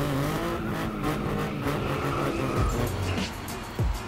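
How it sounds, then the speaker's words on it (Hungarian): A Ford Fiesta with a 1.0-litre three-cylinder EcoBoost turbo petrol engine runs steadily and loudly for about four seconds, a continuous engine drone with slight pitch shifts near the end and no talking. "Ford Fiesta 1000-es turbóbenzines EcoBoost motorral."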